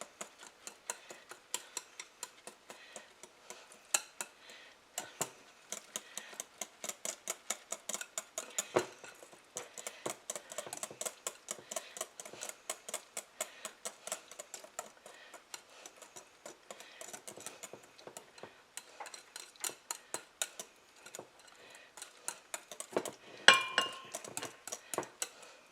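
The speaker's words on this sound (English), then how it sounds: "Give it some good whisking" A whisk beats whipped cream in a bowl, rapid rhythmic clinks and ticks against the side repeating steadily for a long stretch, close and fairly quiet, with no talking.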